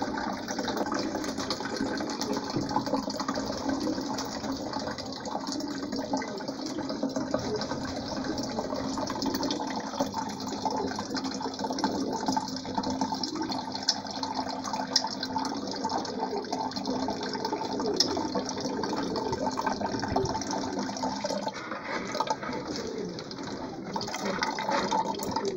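Water pours steadily into a five-litre gallon jug being filled as drinking water for racing pigeons, a continuous close gurgling rush that runs the whole length without pause.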